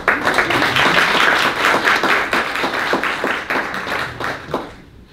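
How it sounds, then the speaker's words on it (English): Lively clapping from a small public-meeting audience at a county library, many distinct hand claps blending into a loud ripple that thins out and stops near the end. "You can clap it up to that."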